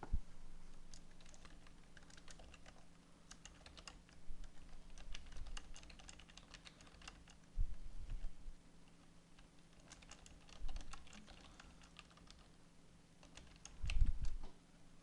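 Someone types on a computer keyboard in a quiet room, with light, irregular key clicks coming in short runs and a few heavier taps, close but soft.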